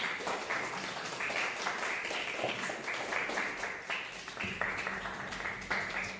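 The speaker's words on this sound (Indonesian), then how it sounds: "Tepuk tangan untuk Mas Apip." Classroom applause for a student volunteer, a group of children clapping in a quick, fairly even rhythm, faint and somewhat distant, with a low hum in the background.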